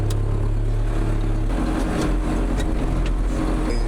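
A tractor engine runs steadily close by in an off-grid forest setting, a constant low droning hum that shifts slightly partway through as the machine drives on.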